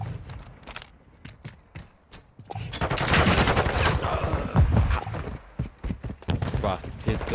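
Rapid bursts of video game gunfire, close and loud, with a fast rattling rhythm that builds into dense sustained volleys midway through, while a player talks excitedly over the shooting.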